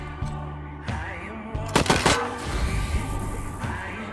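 Gunfire in the video game Wasteland 3, a loud close burst of rapid shots in the middle, set against a droning game background with a few scattered smaller hits.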